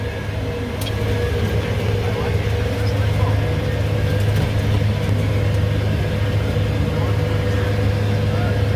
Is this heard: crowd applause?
no